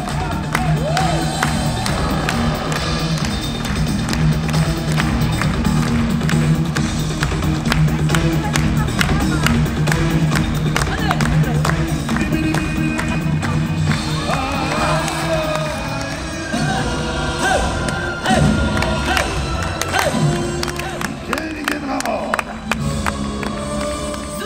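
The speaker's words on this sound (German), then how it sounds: "Ein großer Applaus für den Baron." A large crowd at a Europa-Park show claps, cheers, whoops and shouts for the Baron, with dense, sustained applause filling the space and voices calling out over it.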